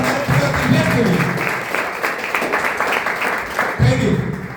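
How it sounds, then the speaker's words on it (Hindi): Audience applause at a health awareness program on Ayurveda in Sagar, Madhya Pradesh, a dense wash of many hands clapping throughout, loud and sustained, with a voice talking over it at the start and end. "अब तक की सबसे जोरदार ताली होनी चाहिए हमारे आयुर्वेद, हमारे पुरातन वेद के लिए।"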